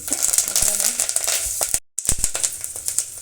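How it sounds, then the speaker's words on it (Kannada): Crushed garlic, dry red chillies and curry leaves sizzle loudly in hot oil for a tempering, with dense crackling and popping and a brief dropout midway. "ಬೆಳ್ಳುಳ್ಳಿ ಜಜ್ಜಿದ್ದು ನಾಲ್ಕರಿಂದ ಐದು ಎಸ್ಲು ಮತ್ತು ಎರಡು ಒಣ ಮೆಣಸಿನ್ಕಾಯಿ ಸ್ವಲ್ಪ ಕರಿಬೇವು ಒಗ್ಗರಣೆ"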